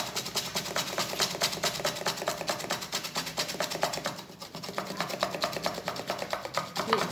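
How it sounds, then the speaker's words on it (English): Fresh ginger rubbed against a grater, giving a steady stream of rapid, rhythmic scraping strokes that stays close and fairly loud throughout, with no talking. "Grate your ginger so well"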